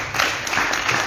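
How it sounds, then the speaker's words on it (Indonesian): Audience applause at a Bali youth gathering, a dense wash of clapping that holds steady for about a second, close and fairly loud. "Tepuk tangan buat semuanya."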